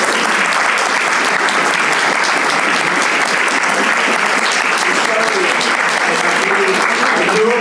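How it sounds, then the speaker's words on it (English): A panel discussion audience applauds in a dense, sustained clatter of many hands that holds steady at full strength throughout. "Another round of applause."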